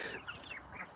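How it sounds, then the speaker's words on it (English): Chickens cluck in short, soft bursts close by, a quick run of calls with no talk over them. "Here, chickens."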